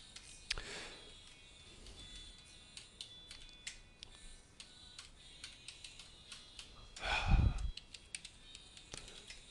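Typing on a computer keyboard at an FTP command line, soft irregular key clicks close by with a louder burst of keystrokes near the end, no voices.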